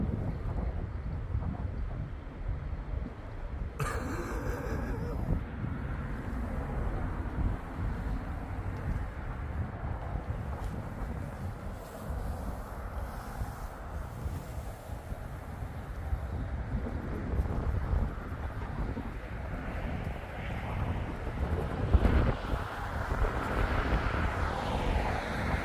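Wind gusts and buffets the microphone at a roadside e-bike stealth camp, a continuous, fairly loud rumbling roar that rises and falls for the whole stretch.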